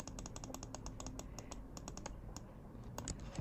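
Keys on a computer keyboard clatter in quick, irregular bursts of typing during app design work, close and fairly soft, with a short pause before a few final taps.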